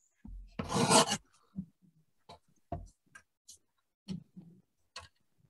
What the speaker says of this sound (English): I'm going to trim off a very small amount from each side, like 1/8 of an inch from all 4 sides